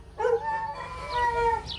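A dog gives a rising, wavering howl that slips into whiny, pitched whimpers, close by and continuous for a couple of seconds, with no talking over it.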